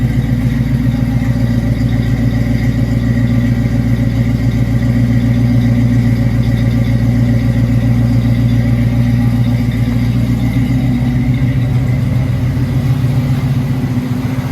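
A 1979 Camaro Z28 engine, recovered after hurricane flood damage, idles steadily and loudly nearby, a continuous low rumble with a faint clattering pulse throughout.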